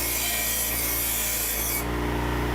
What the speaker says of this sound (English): A couple safety notes about using the bench grinder.